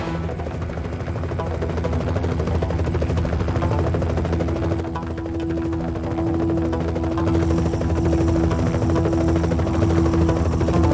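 A video game helicopter's rotor thumps and drones steadily throughout, loud and constant with a faint buzzing hum layered over it, no voices present.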